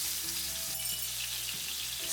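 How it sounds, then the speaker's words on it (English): Pesto hits hot olive oil in a skillet over high heat and fries with a steady, close, continuous sizzle throughout. "When the oil is hot, put a pesto."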